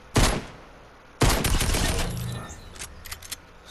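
Gunfire in a Fortnite creative map: two sharp, loud volleys of rapid shots, the second longer and trailing into scattered pops and clinks, with no voices over it.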